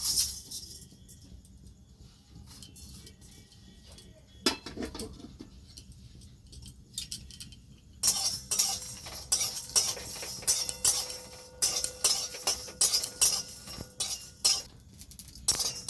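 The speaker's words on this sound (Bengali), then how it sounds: "এগুলো শুকনো খোলায় গরম করে নেব" Dried red chillies, coriander seeds and cumin dry-roasting in a pan, quiet at first, then a run of rapid clinking scrapes and rattles as the spices are stirred and tossed.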